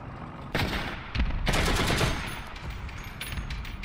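Tank cannon and gunfire in the War Thunder video game, with loud broadband blasts around the half-second and 1.5-second marks followed by sustained rumbling shots that fade slightly toward the end.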